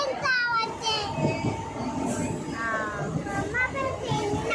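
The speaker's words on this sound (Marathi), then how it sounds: "किती ट्रेनचा आवाज आहे" Steady, loud rumbling noise fills the inside of a moving passenger train throughout, while children and adults talk over it.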